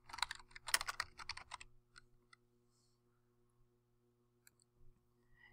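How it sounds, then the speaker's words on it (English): Quick bursts of keystrokes on a computer keyboard, close and crisp, fall in a rapid cluster at the start, followed by a few sparse isolated clicks over a faint steady hum. "On this line, type in your name."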